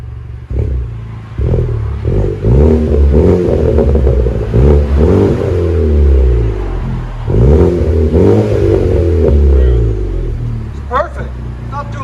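A Chevy Malibu 4-cylinder turbo with its muffler deleted revs loudly up close, two long rising and falling surges of rough exhaust note with a brief pause between, idling down at the end.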